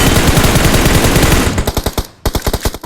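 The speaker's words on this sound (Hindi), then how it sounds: "अब उस गाड़ी पे गोलियां चलाती हैं" Rapid automatic gunfire in the BGMI video game, aimed at a vehicle: loud, dense bursts of shots, first a continuous stream, then separated volleys with a short gap.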